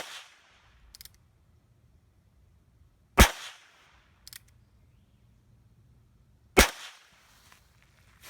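Two sharp, close gunshots from a Heritage Rough Rider .22 revolver fired at targets outdoors, spaced a few seconds apart, with faint clicks and quiet background between shots.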